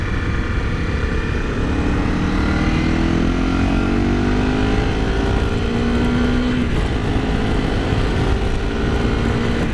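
A 2017 Honda CRF250L Rally motorcycle being ridden, its single-cylinder engine droning steadily with rising and falling pitch as it accelerates, mixed with heavy wind rush and no talk.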